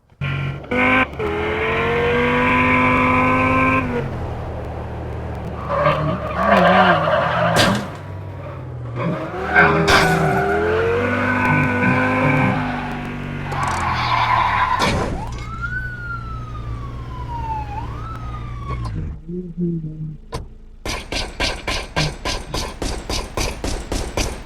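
Sports car in a video game driving with a steady engine drone, sirens and skid squeals rising and falling, then rapid rhythmic clicking near the end; no talk.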